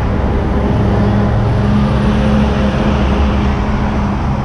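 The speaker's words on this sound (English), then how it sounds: "Trucks coming and going." Heavy trucks rumble past on the street beside a tolls depot at BP Eastern Creek, Sydney, a steady close low drone of road traffic with no pauses and no voices.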